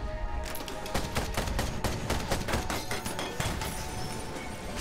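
Rapid burst of weapon fire from the steampunk mech game Ironcast, a quick run of sharp repeated shots over a dense, constant din of game noise, sounding close and steady throughout.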